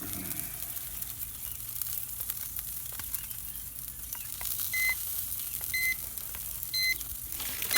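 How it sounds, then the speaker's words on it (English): Faint high electronic beeps from a grill temperature alarm sound a few times in a repeating pattern over a steady sizzling, hissing background of spare ribs on the grill with the lid open. "the stupid temp alarm's going off because I got the lid open"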